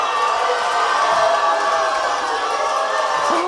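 A large crowd cheers and whoops with a steady, dense roar, a faint boo woven into the mix, sustained and loud throughout.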